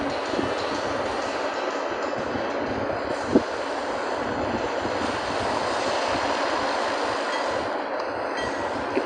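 Steady rumble of a train running in the Train Life Simulator video game, a continuous broadband rail roar with one brief click partway through, no talking.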